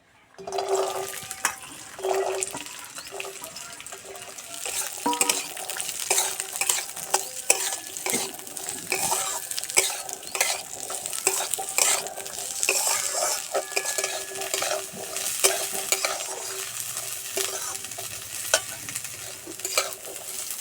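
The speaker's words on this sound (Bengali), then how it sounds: "সবজিগুলো ভেজে নেবো" Chopped beans, carrot and cauliflower fry in hot oil in a wok, a steady bright sizzle broken by frequent scraping and clinking as a spatula stirs against the metal, close and continuous throughout.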